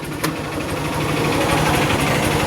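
Honda Supremo motorcycle engine idling steadily after a carburetor conversion, a close, even putter with rapid low pulses and no throttle blips, one brief click near the start.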